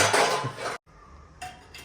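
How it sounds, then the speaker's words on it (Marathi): Dishes, pots and pans being washed by hand produce a busy clatter of metal and ceramic knocks, then a short pause before more scattered clinks and scrapes. "माझी आबो आता भांडी घासतो"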